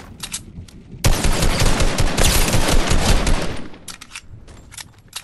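Sustained burst of rapid gunfire and explosive blasts in a multiplayer shooter game, loud and dense for several seconds, with sparser shots before and after and no talking.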